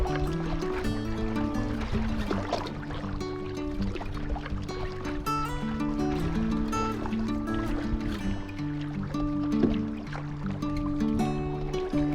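A canoe being paddled on a lake during a Temagami canoe loop trip, with steady water splashing and trickling around the hull over a constant background, close by and without speech.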